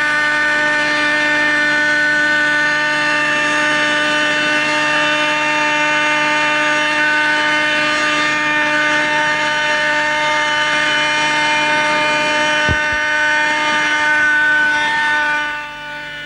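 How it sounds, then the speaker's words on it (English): Starfighter jet aircraft coming in to land at a 1989 jet rally at Wroughton, a loud sustained whine with steady tonal hum that fades near the end, no talking. "Starfighter coming in, so watch out now, watch out."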